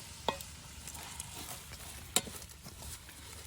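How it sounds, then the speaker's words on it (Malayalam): Onions sautéing in a pan for village-style chicken biryani: a soft steady sizzle with occasional sharp clicks of a spoon against the pan, fairly quiet and close, with no voices. "നല്ല ഗോൾഡ് കളറാവുന്ന വരെ വഴറ്റി കൊണ്ടുപോയിരിക്കും."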